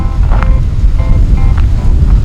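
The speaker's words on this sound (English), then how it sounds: "It's a little chilly today and windy." Gusty, chilly wind at Kissimmee Prairie Preserve State Park buffets the microphone with low rumbling bursts, a few faint tonal sounds poking through.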